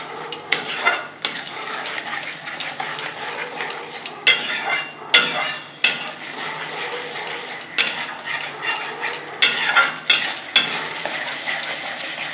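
Egg curry masala with Kashmiri chilli and black pepper being stir-fried in a pan. A spatula scrapes and clatters against the metal in loud, irregular strokes over a low sizzle, with no talking.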